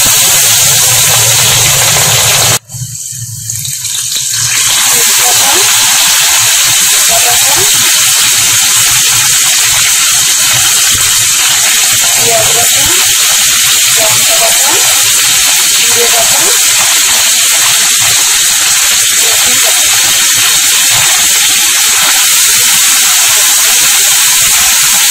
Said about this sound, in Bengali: তেল গরম হয়ে গেছে, জিরে ফোড়ন দিয়ে দিলাম।